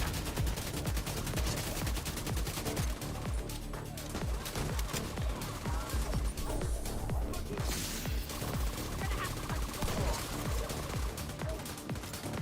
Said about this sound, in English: I like shooting these dudes with this shotty.